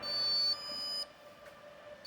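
Buzzer on a Raspberry Pi and Arduino mask-checking robot sounds two short steady high-pitched beeps close together, followed by quiet room tone and the start of a third beep at the end.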